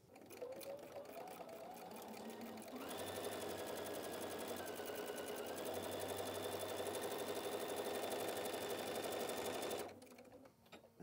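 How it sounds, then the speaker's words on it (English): A sewing machine stitches a seam on a fabric basket, a close, steady rapid whir running for several seconds after a slower start, then stopping abruptly. "and I'm ready to sew."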